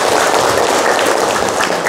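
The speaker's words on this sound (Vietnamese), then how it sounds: "Chúng ta dành tràng pháo tay." Steady applause from an audience at a clinic ceremony honoring patients who have beaten cancer, a dense, even patter of clapping at close range with no pauses.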